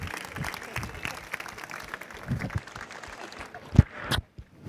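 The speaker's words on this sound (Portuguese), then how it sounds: "é uma salva de palmas para ela." Audience applause at a startup event as a woman is called up onto the stage, with moderate clapping under crowd noise and voices, ending in a few louder claps.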